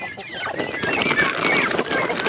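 Broiler chickens kept for family consumption on a small farm cluck and chirp steadily at close range, several birds overlapping in a busy, continuous chatter.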